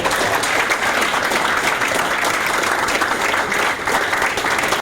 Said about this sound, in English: let's give our 49 learners a big round of applause.